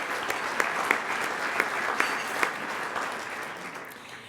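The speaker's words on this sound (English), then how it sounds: "let's have a round of applause for Mr." Round of applause from attendees at a public safety luncheon in Denver, steady clapping of a sizable crowd with a few sharper individual claps standing out, fading slightly at the end.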